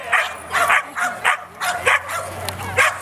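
Frisbee dog Aggie Mae barking at an outdoor hot dog festival show, a quick run of loud yips and barks in an uneven rhythm, with crowd and speaker noise around them.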